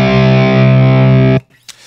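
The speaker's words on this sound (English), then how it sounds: "I've actually got a distorted tone at the moment." A single sustained distorted electric guitar chord with no added effect rings loud and steady, then is cut off sharply, leaving a faint click in the silence afterward.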